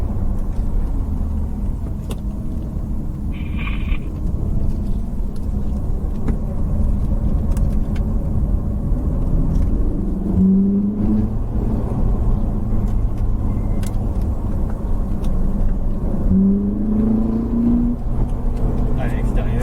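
A Ferrari on a driving course rumbles steadily at close range, its engine note rising in two brief revving pushes, with speech running over the engine throughout.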